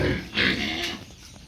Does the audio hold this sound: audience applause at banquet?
no